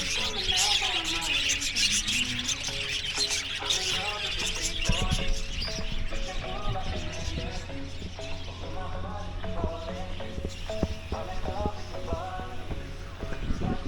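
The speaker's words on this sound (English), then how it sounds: "They even have a parakeet cage and a lot of other birds that wish they were in the parakeet cage." Birds chirping around a parakeet cage at a hotel in La Paz, busy overlapping tweets and calls throughout, with scattered clatter in the background.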